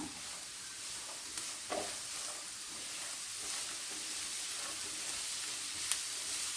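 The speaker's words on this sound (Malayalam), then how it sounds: "തേങ്ങയും ഇതൊക്കെ കൂടി ഒന്ന് നന്നായി മിക്സ് ചെയ്ത് വന്നോട്ടെ ഫ്ലെയിം നമുക്ക് ആദ്യം ഒന്ന് മീഡിയം ഫ്ലെയിമിലിടാം" A coconut mixture for a snake gourd thoran sizzles softly in a pan over medium flame, with a steady low hiss and a few faint stirring scrapes.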